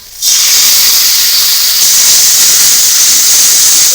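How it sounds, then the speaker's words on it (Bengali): Chopped onions fry in oil in a pan for chicken biryani, giving a loud, steady sizzling hiss that starts abruptly and holds at even strength, close up, with no talking. "পেঁয়াজটা একটু তেলের মধ্যে ভালো করে একটু কষিয়ে নিলাম"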